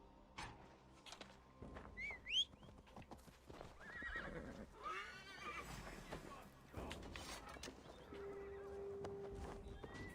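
A horse in the Assassin's Creed Valhalla video game whinnies sharply several times while its hooves clop along, with scattered clunks and a faint whistling in the quiet game mix.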